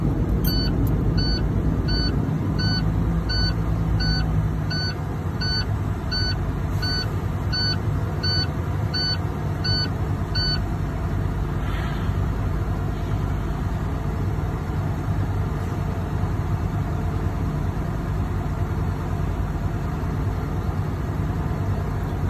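Class A truck engine idling steadily at about 1200 RPM while air pressure builds, a low continuous rumble heard from inside the cab, with a series of regular electronic warning beeps during the first half and no talking.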